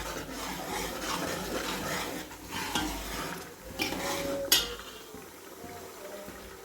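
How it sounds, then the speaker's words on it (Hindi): Masala cooking in oil in a pan, with a soft continuous sizzle under repeated stirring and scraping. Several sharper clinks of a spoon against the pan stand out near the end. "अब इसको हम पकने देंगे जब तक तेल अलग नहीं होता।"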